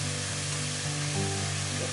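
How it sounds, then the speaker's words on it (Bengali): Spinach frying with spices in a pan, a steady dense sizzle close up, with a low hum underneath and no talking. "পালং শাকটাকে ভাজবো, পালং শাকের জলটা যখন মরে যাবে তখন আমি ডালটাকে দেবো"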